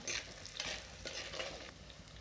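Drumsticks sauté with dried anchovies in a pan. A short, soft burst of sizzling comes with scraping stirring strokes, heard close and fairly quiet.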